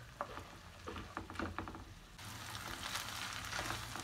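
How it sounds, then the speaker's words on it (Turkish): Minced meat and onions frying in a little oil in a pan, a steady close sizzle with faint stirring scrapes, growing louder and denser after a short pause. "kıymalarımızla soğanlarımızı tekrar kavurmaya devam ediyoruz"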